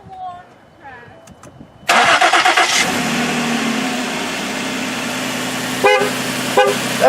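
A cold start of a high-mileage Ford Duratec engine with about 270,000 miles: the starter cranks briefly, then the engine catches and settles into a loud, steady idle close by, with a couple of short horn toots and voices early on.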